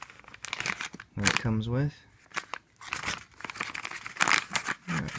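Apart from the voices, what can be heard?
crinkling plastic bag holding an Emberlit stainless steel stove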